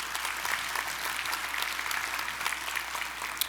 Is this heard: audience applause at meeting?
yes